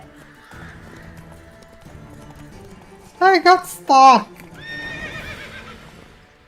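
Geralt's horse Roach in The Witcher 3 neighs loudly in two sharp whinnies close by, with faint hoof clip-clop and ambient game sound around it, while a player talks over the game.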